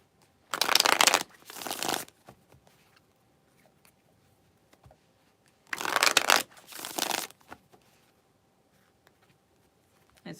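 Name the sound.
shuffling tarot cards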